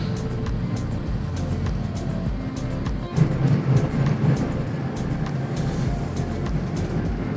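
A motorhome cruising down Florida's I-4 highway, with steady broadband road and engine rumble filling the cabin and a brief louder swell partway through, no talking.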